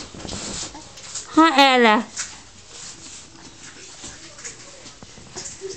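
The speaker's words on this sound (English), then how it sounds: "These dogs are having a blast." A dog lets out a brief, high whimpering whine amid quiet background noise, while a person speaks softly nearby.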